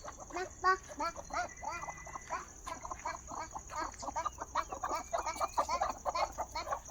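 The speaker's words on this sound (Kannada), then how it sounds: "ಎಲ್ಲ ಕೋಳಿಗಳು ಈ ಥರ ಹೋಗ್ತವೆ" Many chickens cluck and chatter steadily in a low-cost chicken shed, a dense busy flock close by with a constant high hum and a voice speaking now and then.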